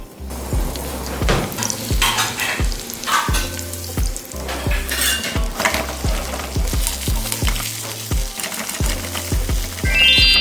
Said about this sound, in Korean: 자, 팬에 1큰술 정도의 식용유를 넣어주시고요. 자, 여기에 고기를 가지런히 넣어서 초벌구이를 해줄게요.